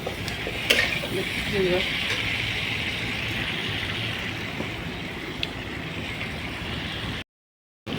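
Chicken pieces sizzle in a pan with onion, tomato, turmeric and chilli as they are stirred, a steady close frying hiss with occasional scraping clicks, cutting to brief silence near the end.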